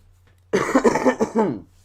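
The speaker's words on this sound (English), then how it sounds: "let me clear my throat for a second" A single close, short throat clearing, a rough guttural rasp lasting about a second, with near silence before and after.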